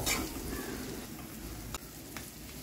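Poha with turmeric stirred in a frying pan, a soft continuous sizzle with a couple of brief scraping clicks from the spoon, quiet and close, no talk.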